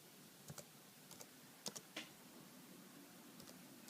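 Someone types the ADB reboot command on a computer keyboard in the Minimal ADB and Fastboot tool: a few faint, quick keystrokes come in small clusters over a quiet background hiss, with no talking.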